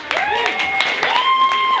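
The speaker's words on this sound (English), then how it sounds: "Give a clap for yourselves." At a live poetry event the audience claps and cheers, with a few sharp claps breaking through loud whooping and shouted voices that carry over most of the short burst.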